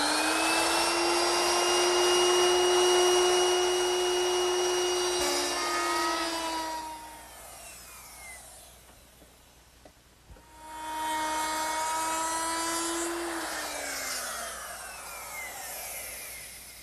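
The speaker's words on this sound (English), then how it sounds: "I'll make that beveled rabbet using a 22-degree beveling bit" A router fitted with a 22-degree beveling bit cuts a beveled rabbet along a wooden edge, its high steady whine loud for several seconds, dropping out briefly midway, then returning for a second pass.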